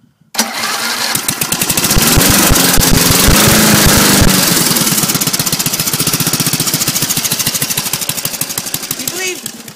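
An old, once-abandoned lawn mower engine starts with a sudden loud blast and then runs in a steady, rapid chug close by. It stays loud and even to the end, with people talking over it.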